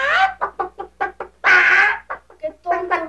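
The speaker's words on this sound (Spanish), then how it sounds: "Eso no es un gallo, es una gallina." A hen clucks in a short burst of rapid, separate clucks, lets out one longer drawn squawk, then clucks again, close and loud in a TV drama scene.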